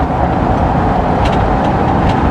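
A 1955 Chevy Nomad, road legal after sitting for 30 years, drives along with a steady broadband road and engine rumble, loud and close, continuous with no talk.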